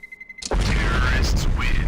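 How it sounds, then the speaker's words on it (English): A bomb detonates in Counter-Strike on the de_inferno map during a competitive ESEA match. A brief quiet lead-in is followed by a sudden, loud, sustained blast and roar, with commentators' voices underneath. "The bomb is going to blow"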